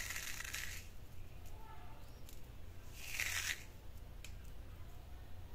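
Crispy homemade aloo bhujia sev crackles and rustles as a hand touches and stirs it, two louder crunchy bursts over soft background noise.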